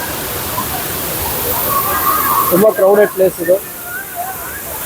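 Rushing water at Thirupurappu Waterfall on the Tamil Nadu–Kerala border makes a steady broadband roar throughout, with people talking over it near the middle.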